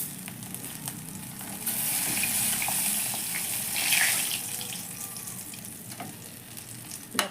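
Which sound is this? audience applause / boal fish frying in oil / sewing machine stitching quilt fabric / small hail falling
boal fish frying in oil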